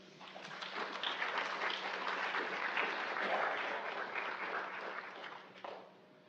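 Sustained applause from a conference audience at a Pacific Islander health gathering, honoring presenters; steady dense clapping throughout, fading slightly near the end, with no talk over it.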